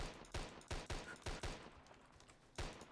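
Gunfire in the Zombie Tsunami mobile game, a rapid string of about eight sharp punchy shots in quick bursts, loud and close, alone without talk.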